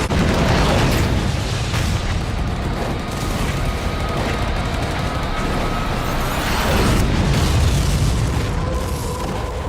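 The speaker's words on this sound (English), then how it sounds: "Incoming artillery!" Artillery shells explode in a multiplayer strategy war game as a dense, continuous barrage of deep booms and rumbling blasts. The explosions overlap loudly throughout, with a few stronger impacts swelling out of the din.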